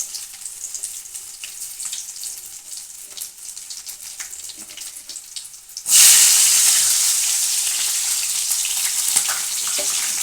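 Dried red chillies, green chillies and crushed garlic hit hot oil in a pan, a sudden loud sizzle that bursts in partway through and keeps up as a steady crackling hiss, following quieter kitchen clatter, with no talking.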